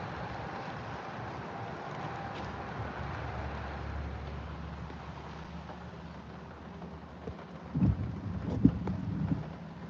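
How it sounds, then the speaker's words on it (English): Thunder from an early-stage derecho storm over Iowa, Illinois and Indiana rolls as a faint, distant low rumble. A few sharper crackling bumps follow near the end. "More lightning."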